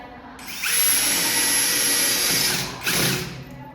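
A core drill bores through the wall of an old apartment building to run the line for an AC indoor unit: a steady, loud, high whine that dips briefly near the end before grinding on.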